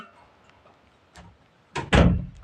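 A door is pushed shut indoors, a couple of soft knocks followed by a loud close thud at the end.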